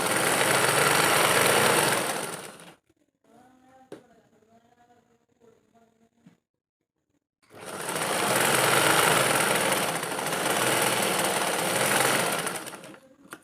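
A sewing machine stitches a folded nighty piece in two loud continuous whirring runs of about three and six seconds, separated by a quiet gap with faint handling clicks and low talk.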